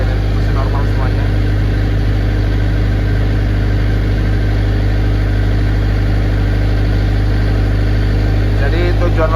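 A 40 kVA diesel genset engine runs under a load test at about 52 amperes, giving a loud, close, continuous low droning hum that stays steady throughout while someone talks over it.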